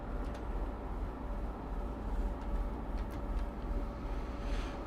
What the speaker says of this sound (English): I love the sound of these bi-modes.